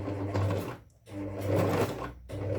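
Sewing machine stitching a dart in fabric: close, steady mechanical whirring in three short runs separated by brief pauses, fairly quiet overall with no talking.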